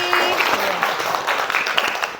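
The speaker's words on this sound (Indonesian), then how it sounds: "tepuk tangan dong untuk Mevi" Students in a classroom clap for a classmate during a lesson, giving a brisk, fairly full burst of applause with faint room chatter underneath.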